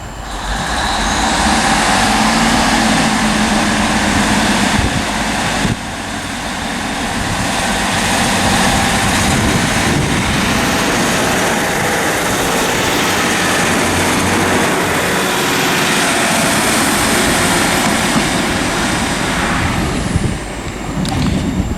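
Northern Class 150 unit 15123 pulling away from Liverpool South Parkway on the West Coast Main Line, a loud, sustained diesel engine roar with rail rumble and a brief high whine. It is close and steady throughout, with no voices.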